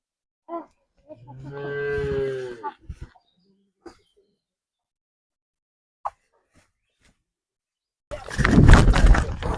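A pregnant Friesian heifer at a cattle market gives one long, close, drawn-out moo, followed by quiet with faint scattered knocks before a burst of loud market noise at the end.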